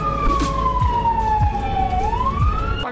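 An ambulance siren wails steadily as the vehicle arrives at a hospital in Bolivia, a single sweeping tone falling slowly then rising again, loud and close over road and engine rumble.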